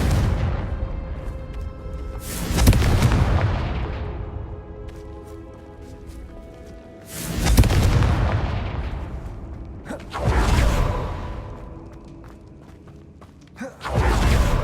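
Confringo fire spell blasts in Hogwarts Legacy, several loud booming explosions with whooshing tails, each swelling and fading over a couple of seconds, with quieter game ambience between.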